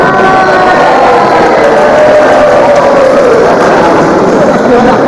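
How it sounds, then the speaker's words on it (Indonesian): Audience at an Islamic study gathering claps, a dense, steady wash of applause mixed with crowd murmur that fills the whole stretch at close, loud level. "Nggak usah tepuk tangan, ngapa?"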